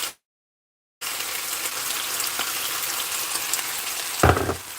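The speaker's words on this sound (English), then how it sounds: "I'm going to put the rest of these onions in here" Onions sizzling steadily in a hot pan alongside chicken, a dense continuous frying hiss starting after a brief silence, with a short louder spatter near the end.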